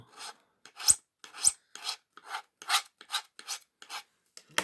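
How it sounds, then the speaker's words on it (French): A rasping nail file scrapes across paper in short separate strokes, about a dozen quick rubs at an uneven rhythm, close and fairly loud with silence between. "avec votre lime à ongles, vous venez passer dessus"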